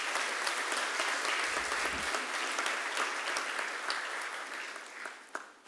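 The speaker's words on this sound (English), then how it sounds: "A huge round of applause for all of them." An audience at a children's heart hospital's first anniversary celebration applauds a visiting international surgical team, with steady, full clapping sustained for several seconds that tapers slightly toward the end.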